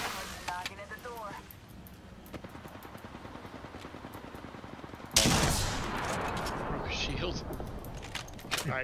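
Rapid gunfire in the battle royale game Apex Legends, bursts of close shots cracking throughout, growing louder and denser partway through, with a player talking over them.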